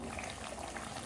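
Chicken curry with ground masala and water simmering in a pot, a steady, close bubbling boil with dense, continuous liquid texture throughout.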